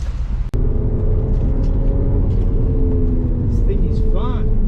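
BMW 1M accelerating on a winding road during a rally, heard from inside with a steady loud engine drone and road rumble after a brief knock, while people talk over it.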